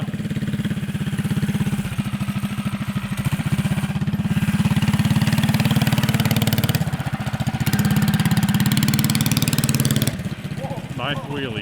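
A 10HP 212 engine on a tiny four-wheeler chugs loudly with a rapid, pulsing beat, revving and easing in waves before dropping off near the end, with voices faintly underneath.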